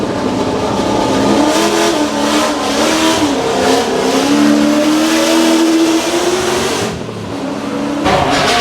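Jaguar Mark II doing a tyre burnout, a loud, close engine held at high revs with a rising and wavering whine and tyre roar, briefly dipping before surging again.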